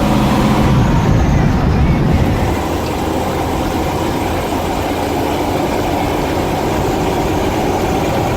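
A purple 1983 Jeep CJ8 Scrambler cruises down the road, its engine holding a steady low drone with a broad rumble of road and wind noise, loud and continuous throughout.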